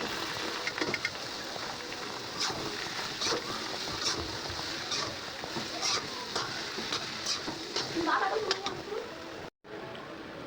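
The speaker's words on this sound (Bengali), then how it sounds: "যে ডিমটা ভাজা হয়ে গেছে, এখন কপিটা দিয়ে দিলাম।" Cabbage stir-frying with an already fried egg in a pan, giving a steady crackling sizzle with scattered spatters and clinks close by, a brief cut near the end.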